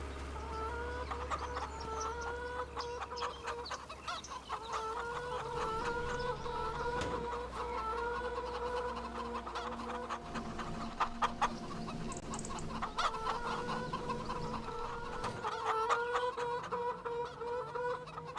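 Chickens clucking in a coop during garden planting, a continuous busy chorus of clucks and squawks from several birds at close range, with occasional sharper calls over a low background hum.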